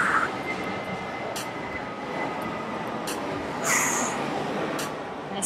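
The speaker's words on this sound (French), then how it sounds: "Il y a vraiment, vraiment beaucoup d'avions qui passent derrière." Airplanes pass overhead during an outdoor workout, a steady broad rumbling roar with a swell near the middle, heard alone with faint high tones.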